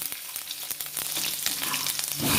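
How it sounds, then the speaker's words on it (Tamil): Loud sizzling and crackling of spices, garlic and onion frying in hot oil, close up, with sharp pops and a building hiss, no talking. "இதெல்லாமே வந்து எண்ணெயில் நல்லா பொரியட்டும்."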